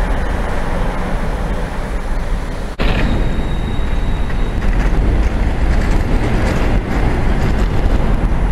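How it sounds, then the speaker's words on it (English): A train rolls across a viaduct over a river, giving a loud, continuous rumbling roar with rail clatter that persists throughout, heard from an outdoor walkway. "Train going out of viaduct."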